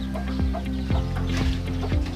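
Free-range native chickens cluck repeatedly near their cleaned coop area, a series of sharp, loud clucks spaced through a steady ambient background.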